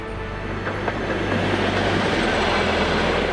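A passenger train with wagons rolls past as a steady broadband rumble with a low hum, loud and continuous, with no voices.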